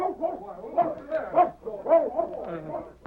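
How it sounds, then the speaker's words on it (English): A dog turned loose gives a run of excited barks and yips, close and fairly loud, with people speaking around it. "All right, Arizona. Let your dog go. Get him, boy."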